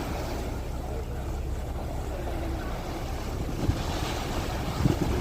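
Sea at Duba beach in Saudi Arabia on a windy day, a steady roar of wind buffeting the microphone over washing waves, continuous and loud with a couple of faint bumps near the end.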